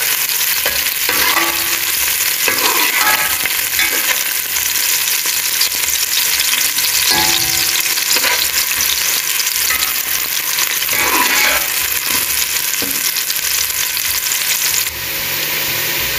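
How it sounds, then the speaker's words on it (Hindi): Onions frying in half a cup of oil in a pan for vegetable rice, a steady loud sizzle running throughout with occasional stirring scrapes and clinks, no talking. "सबसे पहले प्याज डाल के इनको लाइट ब्राउन करना है।"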